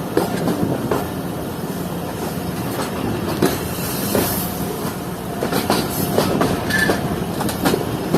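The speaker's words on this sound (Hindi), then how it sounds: "इसीलिए हमारी ट्रेन को लूप लाइन पर लिया जा रहा है।" The Jaffer Express rolls along a loop line on a single-track route, its wheels giving a steady, close clickety-clack over a constant rumble, with no voices.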